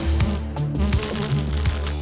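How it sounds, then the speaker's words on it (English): A cartoon bee buzzes in flight at speed toward a spider web trap. The drone is loud, close and unbroken, with a slight wavering pitch throughout and no voices. "Incoming. A bee. He's coming in at 32 kilometers per hour"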